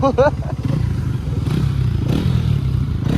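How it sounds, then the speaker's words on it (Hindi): A motorcycle being ridden gives a continuous low engine rumble with rattles and wind noise, close and steady, while someone talks over it. "तो गाइस अभी बाइक चला रहे हैं मैं, वो मेरा बाइक चला रहे हैं"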